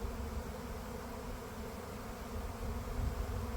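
Bees from a swarm on a makeshift stand on a farm, a dense, steady buzzing drone that holds at an even level throughout, close by with no voices.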